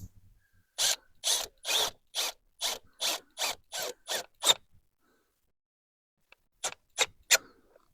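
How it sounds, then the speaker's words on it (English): A clamp screw on a Toyota Auris air filter housing being tightened with a ratcheting tool, about a dozen close, even clicking ratchet strokes, then a pause and three more quick strokes. "And we want to tighten this screw."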